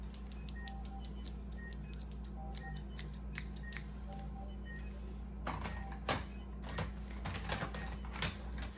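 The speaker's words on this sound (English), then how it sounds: "Two more pairs of surgery scissors." Metal surgical scissors snip in a quick irregular series of sharp, close clicks, at first light and sparse, then denser and busier, with no voices.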